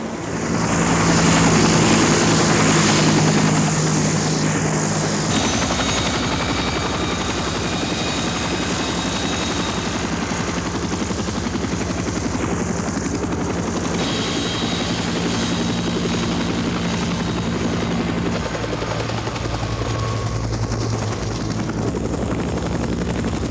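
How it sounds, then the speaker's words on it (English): A helicopter sound-effect track from a film mix: a loud, continuous rotor thump and engine whine held steady throughout, with no voices over it. "So the second part was a helicopter track."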